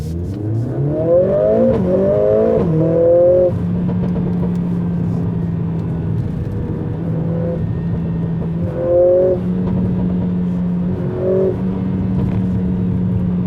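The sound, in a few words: Mercedes-AMG sports car engine accelerating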